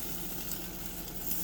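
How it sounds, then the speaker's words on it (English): Omelette cooking in butter in a non-stick pan, giving a steady, close, soft sizzle with no talking over it. "I'm going to let that cook just a little bit so that we can flip."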